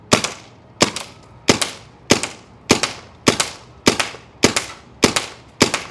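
A Dye MXR paintball marker fires nine evenly spaced, sharp, close shots with soft, quick decays, a quiet and steady rhythm with nothing else around it.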